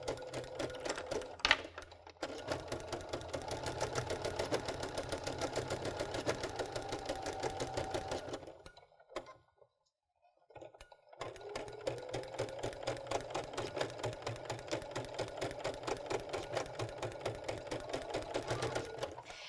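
A Baby Lock sewing machine fitted with a ruffling foot stitches fabric in a steady, close mechanical whir with rapid rhythmic clatter, pausing briefly midway before running on again.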